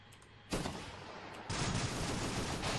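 A tank firing in Arma 3 during night combat. One dense, booming burst comes in suddenly and is followed by a louder, sustained roar of gunfire.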